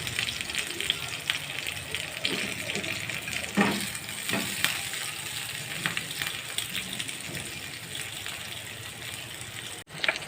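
Chicken fries in a pan with a steady, dense sizzle and occasional stirring clatter, continuous and fairly close throughout.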